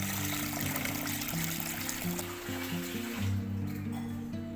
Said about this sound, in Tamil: அரிசியை நல்லா ஒரு 3-4 times வாஷ் பண்ணிவிட்டு இப்போ வந்து தண்ணியில் சோக் பண்ணி வச்சிடுறேன்.